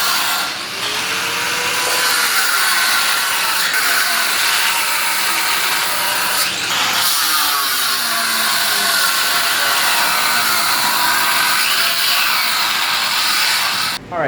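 An ironworker trims metal plates with a tool that runs in a loud, continuous mechanical grind, with a couple of brief dips, during work on a DIY aquarium rack system.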